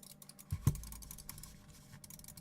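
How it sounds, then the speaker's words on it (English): Clicking of a Logitech G Pro Wireless mouse button, a few close, sharp, quiet clicks against a soft background, with a slightly louder pair of clicks near the start. "Let's see how it clicks. The clicking is very nice."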